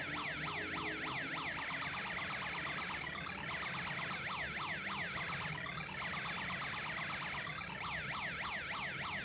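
A continuous, loud home-built electronic siren module yelps with rapid rising sweeps, overlaid by slower wavering sweeps every few seconds, harsh and unbroken.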